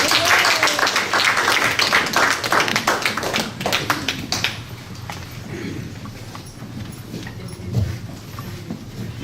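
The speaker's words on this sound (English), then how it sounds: "Let's give them one more round of applause." Audience applause at a live stage event, loud dense clapping that starts strongly and fades over several seconds to scattered claps.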